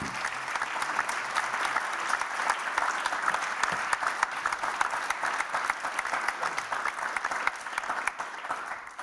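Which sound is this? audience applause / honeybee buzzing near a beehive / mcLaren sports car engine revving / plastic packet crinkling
audience applause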